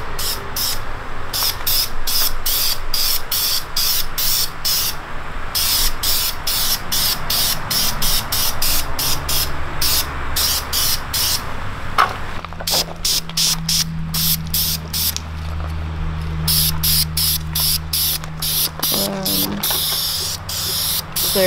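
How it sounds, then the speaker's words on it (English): Spray paint hisses out of a can in rapid short bursts onto a street go-kart, over and over, close and loud, with a low hum running underneath. "Is there a technique to how you're spraying?"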